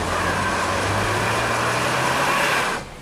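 Subaru AWD engine held at full throttle with traction control off, a loud sustained high-rev roar with a steady drone that holds for nearly three seconds, then drops off sharply.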